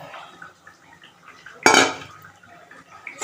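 Potatoes dropped into bubbling masala in a pan for a katla kalia, giving a single loud splashing clatter midway through, set against faint kitchen clinks and background noise.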